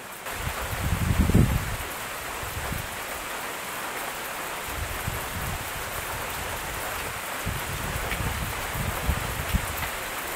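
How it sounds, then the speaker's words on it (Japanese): Steady rain falls at a tent campsite in Kamikochi, a continuous close hiss of drops on surfaces with occasional low thumps and rustles. "これは続きそうな雨なんで"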